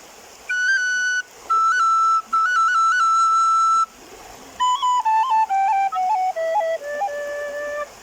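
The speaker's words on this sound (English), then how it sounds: "So that's cuts on the recorder from Irish style whistle playing." Recorder played in Irish whistle style, bright clear tones in short phrases with quick cut ornaments flicking above the main notes, first a held higher note then a descending run of separate tones, close and alone.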